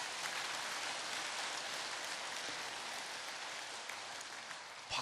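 A church congregation at a Korean Methodist Wednesday fellowship meeting applauds, giving a steady, even wash of clapping that stays fairly quiet and continuous, with no talking.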